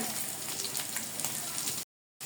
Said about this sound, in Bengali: এখানে দুই টুকরো আলু দিয়ে দিলাম এখন এগুলোকে সুন্দর করে একটু ভেজে নিব তেলের সাথে